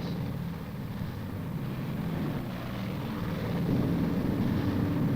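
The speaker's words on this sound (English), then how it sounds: "Day after day, plane after plane, the B-29s roared up from their Okinawan bases." B-29 bomber propeller aircraft roaring up from Okinawan bases during the Korean War era, a steady heavy engine drone that swells louder toward the end, continuous with no voices.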